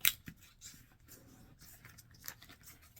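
Paper scissors snip through a folded sheet of forest green paper to cut out a long flower petal, giving a few faint, close crisp cuts with soft rustling between them.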